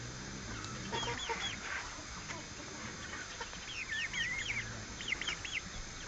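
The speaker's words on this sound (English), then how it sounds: "This is the other hen." A hen clucks and chatters in short wavering bursts, joined by fainter chicken sounds, over a low background with distant indistinct voices.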